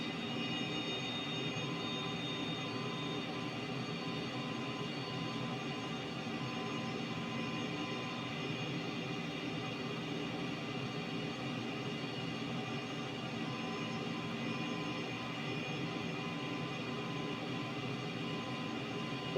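Steady cockpit drone of a Cessna T-37B Tweet jet trainer in flight in Microsoft Flight Simulator during a stall test in landing configuration, a constant dense engine and airflow roar that stays level throughout.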